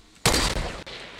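Gunfire in the Fortnite battle royale video game: a sudden loud burst of shots that holds for about a second with a brief dip partway, then a second burst returning at the end.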